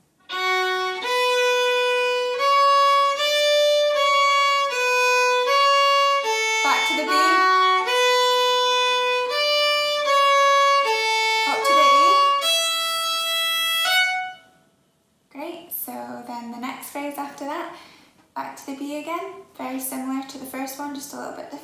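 A fiddle plays the Manx tune Ta Cashen Ersooyl in a lesson, a clear run of bowed notes for about fourteen seconds, followed by a stretch of talking.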